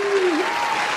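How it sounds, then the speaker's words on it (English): A brief burst of applause dropped into a podcast, a dense hiss of clapping with no gaps, with a sliding tone running underneath. "let's put a round of applause here"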